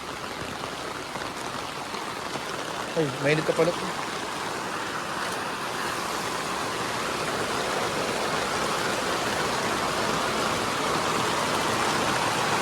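Heavy rain and rushing water roar in a steady, dense wash as water pools quickly during a sudden downpour at a wake in Bicol, Philippines, with a short spoken remark partway through.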